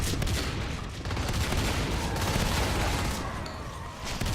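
Dense, sustained gunfire from four Marines assaulting in the shooter Natural Selection 2, rapid overlapping shots forming a continuous loud barrage with bursts of impacts, no talk heard.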